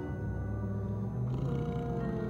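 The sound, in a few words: cougar sound in The 11th Hour video game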